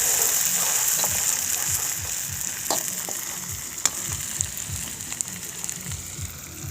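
Onion greens being stirred in a hot pan for vangyache bharit, an eggplant dish, on a terrace: a steady loud sizzle of frying with occasional spoon scrapes and taps on the pan.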